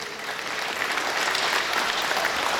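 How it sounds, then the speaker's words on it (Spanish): Steady, dense applause from a crowd at a community event celebrating a newly married couple, continuous and fairly loud throughout. "Fuerte el aplauso para este matrimonio."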